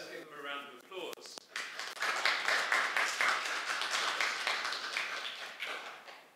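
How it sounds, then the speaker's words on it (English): A congregation at a church Nativity all-age service claps for the children and grown-ups, a steady, moderately loud patter of many hands that follows a brief stretch of talk. "Let's give them a round of applause."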